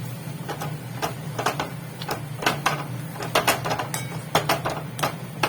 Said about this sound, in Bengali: আমি একটু ভালো করে টমেটোটা ম্যাশ করে নেব।